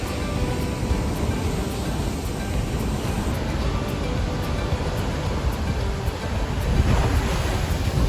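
Winter ocean surf roars against the Oregon coast shoreline, a loud continuous wash of breaking waves mixed with strong wind buffeting the microphone, swelling near the end.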